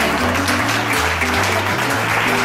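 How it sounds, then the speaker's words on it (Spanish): Audience applause at a resort hotel show in Club La Costa, a steady, dense clapping from a crowd heard over sustained low musical tones that shift pitch in steps underneath. "Lara, big applause for her."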